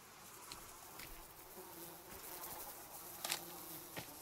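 A swarm of flies buzzes continuously inside the Sons Of The Forest video game. The drone is faint and steady, with a few sharper clicks and bumps over the top and no talking.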